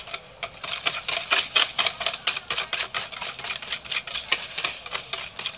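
Eggs whisked by hand in a bowl for a steamed tape cake batter, a fast steady run of sharp clicking taps from the whisk against the bowl, close and fairly loud, with no talking.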